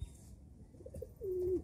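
Pet pigeons, including a crested Giribaz, cooing softly with a few short low coos and then a longer drawn-out coo, faint and close over quiet background noise.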